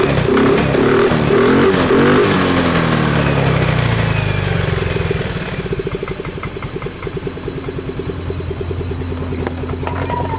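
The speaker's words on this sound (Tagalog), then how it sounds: "Kung mapapansin nyo po, tuloy-tuloy po yung andar po niya," A Yamaha Mio i 125 fuel-injected scooter engine runs steadily without stalling after a faulty spark plug cap was replaced, with a loud, close, continuous idle rumble that settles into an even pulsing beat partway through.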